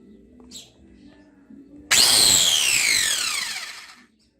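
A repaired electric motor armature spins up with a sudden loud whine that starts abruptly, then slowly falls in pitch and fades over about two seconds, close up, after a quiet lead-in.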